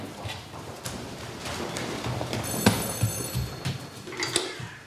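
A landline telephone in a convent kitchen rings once, a short bright bell burst near the middle, over a steady indoor room hum.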